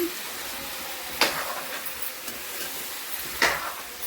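Ingredients for bottle gourd pickle stirred in hot oil, a low continuous sizzle with two distinct scraping strokes of a spoon against the pan.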